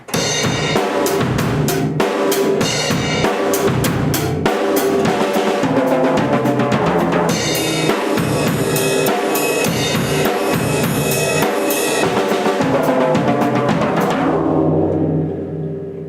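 A full drum kit grooves steadily: kick and snare drive the beat under constant cymbal shimmer, with busier fills before the final crash rings out and fades.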